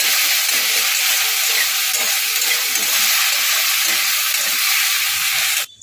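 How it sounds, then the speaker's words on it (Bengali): Fish fries lightly in oil with a loud, close, continuous hissing sizzle that holds steady for several seconds and then cuts off abruptly at the end, with no voices. "মাছটা হালকা করে ভেজে নিয়েছি"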